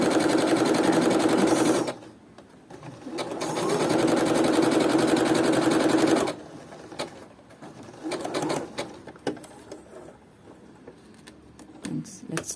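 A Bernette sewing machine stitches a pico rolled hem in two steady, fast-running bursts of close mechanical whirring. Quieter handling noises and a person's voice follow between and after the runs.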